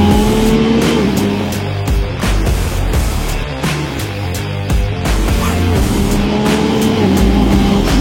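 A Yamaha MT-09 SP naked sport motorcycle engine revs loudly and continuously up close, its pitch rising and dropping between throttle changes.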